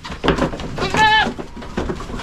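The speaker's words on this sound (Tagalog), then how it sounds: "Marami po tayong mga laking kambing ngayon mga kaprobinsya." A single loud, wavering bleat from a full-grown goat in a small farm herd rises over low background noise and movement, near and clear for about a quarter second.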